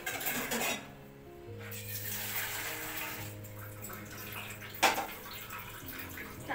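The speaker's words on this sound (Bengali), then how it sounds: "এগুলো ধুয়ে নিই" Vegetables washed by hand under running tap water in a home kitchen, a steady gentle stream with light splashing and a sharp knock near the end.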